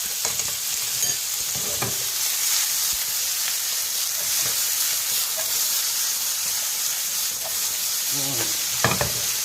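Sliced ampalaya (bitter gourd) stir-frying in a hot pan: a loud, steady sizzle with occasional scrapes and clanks of the utensil, close up and with no talking.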